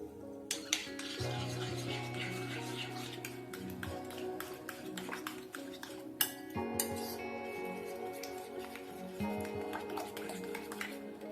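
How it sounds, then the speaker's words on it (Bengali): Eggs with chopped onion and coriander leaves beaten in a bowl for egg paratha, a rapid clinking, tapping utensil rhythm against the dish, close and continuous with brief pauses. "দেবো ধনেপাতা কুচি, ডিমটা ভালো করে ফেটিয়ে নেব।"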